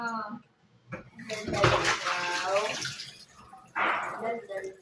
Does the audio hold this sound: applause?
no